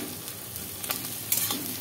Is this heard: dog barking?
no